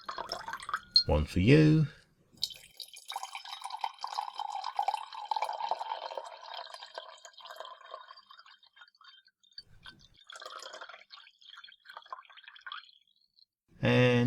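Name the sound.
tea being poured into cups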